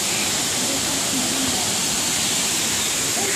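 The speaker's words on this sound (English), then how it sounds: "I'm not sure if it's still the highest man-made waterfall around." Water roars steadily at a tall man-made waterfall in Jurong Bird Park, a dense, continuous rushing wash heard close and loud, with faint voices beneath it.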